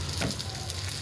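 Chapati sizzles in ghee on a pan over a very low gas flame, a soft, steady crackle with a brief louder hiss near the start.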